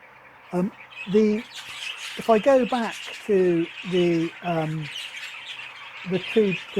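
A pet cock bird squawks in a run of harsh, repeated calls, some paired, close and fairly loud, while a person talks quietly underneath.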